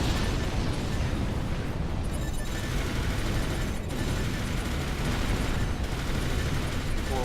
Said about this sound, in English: I'm blowing up all these missile batteries, because these missiles will do a lot of damage to you